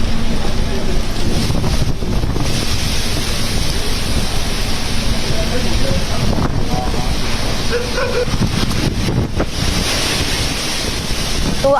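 A dust storm with rain sweeps through Delhi NCR, a continuous loud roar of gusting wind buffeting the microphone, with surges and dips over about twelve seconds.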